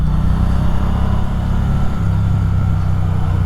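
A 2020 Triumph Bonneville T100 Bud Ekins motorcycle rides in second gear at about 4000 rpm while leaning into a bend, its twin engine giving a loud, steady throbbing drone with wind rush and no talk.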